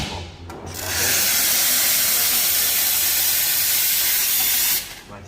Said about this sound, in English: let's now steam some milk. You see the power of the steam from the espresso.